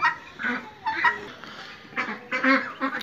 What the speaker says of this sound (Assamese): এয়া মোৰ ব্ৰইলাৰ হাঁহৰ পোৱালি।